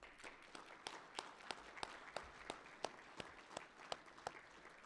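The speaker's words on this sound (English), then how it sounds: "stand up so we can give you a round of applause." Someone at a state farm bureau convention claps slowly and faintly, sharp single claps in a steady rhythm roughly three per second, heard at a distance over quiet room tone.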